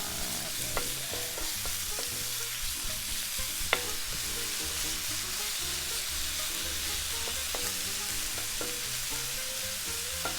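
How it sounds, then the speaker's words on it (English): Beef for stroganoff fries in batches in a pan, a continuous crackling sizzle with scattered pops and spits, fairly soft and even throughout with no voices. "Just remember to cook it in batches so that you don't overcrowd the pan and end up with stewing beef."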